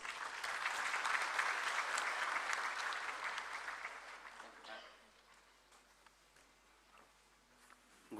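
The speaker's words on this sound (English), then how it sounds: "And I want you all to give him a welcoming round of applause." At a World Human Rights Day event, a large audience breaks into welcoming applause that stays full and steady for several seconds and then fades away to a quiet hall.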